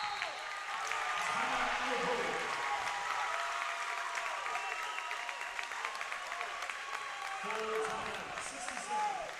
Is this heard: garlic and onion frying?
no